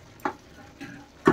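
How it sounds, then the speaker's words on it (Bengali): A spoon scrapes and knocks in a cooking pot as food is stirred near the end of cooking: two or three short, distinct clinks spaced apart, close and fairly crisp, with quiet between them. "দেখেন এখন একটু নেড়ে দিচ্ছি, প্রায় হয়ে এসেছে।"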